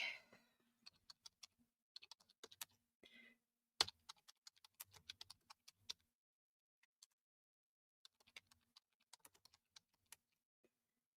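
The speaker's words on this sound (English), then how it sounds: "So we're going to get this one typed in." Typing on a computer keyboard, quiet scattered key clicks in short irregular runs with a couple of louder taps and pauses between bursts.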